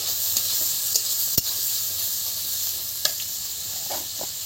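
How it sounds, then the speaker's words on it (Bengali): Chopped tomatoes frying in a pan for chana masala give a steady hissing sizzle, broken by a few sharp clicks and taps of a spatula stirring, close and unvoiced. "এবার এই যে টমেটো কুচি কটা এর মধ্যে দিয়ে দিলাম"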